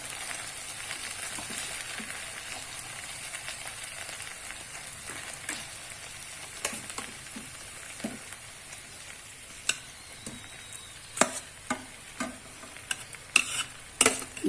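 Cooked rice being stirred and fried in a kadai with mixed vegetables and masala, a steady soft sizzle under repeated scraping and clinking strokes of a spoon against the pan that grow sharper toward the end.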